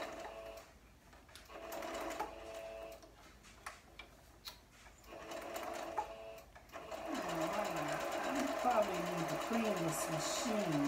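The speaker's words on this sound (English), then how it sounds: "This machine, it always wants to eat up my fabric, and this probably needs to be cleaned." A sewing machine stitching quilt fabric for a crib quilt, running in short bursts of rapid mechanical ticking at first, then a longer continuous run, with someone talking over it.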